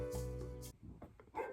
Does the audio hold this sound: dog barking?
yes